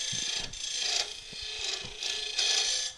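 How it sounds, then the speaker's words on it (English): A high-speed steel scraper cuts wood spinning in a lathe running at 1700 RPM, with the tool held like a negative rake scraper. It gives a steady close rasping scrape that swells in repeated passes. "Get plenty of speed into the lathe and use it almost like a negative rake scraper"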